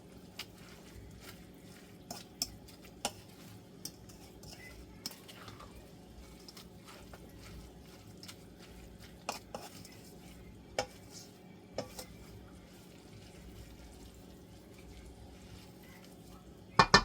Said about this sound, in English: We'll just stir all this together.